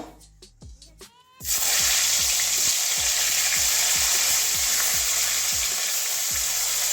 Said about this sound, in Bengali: বাকি সিমগুলো আবার ওইভাবেই ভেজে নেবো